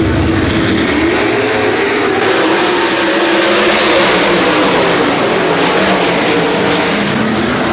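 Race cars at Rapid Speedway roar and accelerate together out of turn four on a restart, a loud, continuous engine drone with rising pitch that holds steady for the whole stretch.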